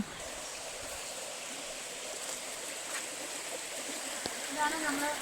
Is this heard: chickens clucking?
no